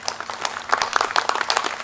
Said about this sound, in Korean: 박수로 환영하십시다.